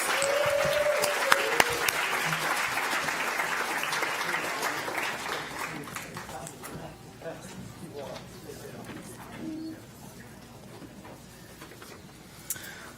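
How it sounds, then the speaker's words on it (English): An audience applauds Senator Bernie Sanders at a forum on economic rights, with loud clapping that fades over several seconds into quieter scattered claps, room murmur and a brief voice. "Another round of applause for Senator Bernie Sanders."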